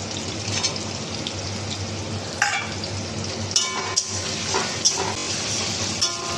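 Chicken, onion and chopped tomato fry in a pan, a steady close sizzle with scattered stirring clinks and scrapes and no talking.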